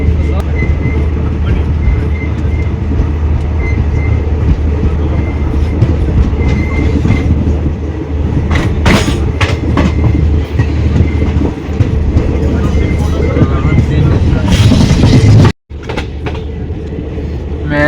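A passenger train runs between Banihal and Srinagar in the Kashmir valley, its constant rumble and rattling wheels heard from inside the carriage, loud and unbroken apart from a brief dropout near the end.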